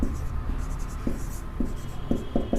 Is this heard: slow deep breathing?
no